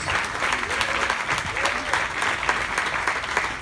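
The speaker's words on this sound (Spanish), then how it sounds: "darle un aplauso porque todos hemos venido gracias a ellos" Steady audience applause at an animation-industry event in Spain, a dense wash of many hands clapping at even loudness throughout, with a few faint voices mixed in.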